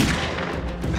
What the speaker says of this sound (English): Imagine you're seeing that target now, and you're firing now.